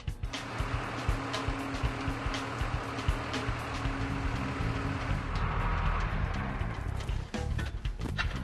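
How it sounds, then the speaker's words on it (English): A skid steer fitted with over-the-tire tracks drives slowly back and forth, giving a continuous engine rumble with repeated clanks and knocks from the tracks, close and steady. "I'm going to hop in the machine and driving it back and forth slowly"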